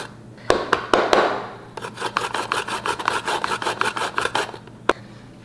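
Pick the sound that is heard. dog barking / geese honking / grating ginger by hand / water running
grating ginger by hand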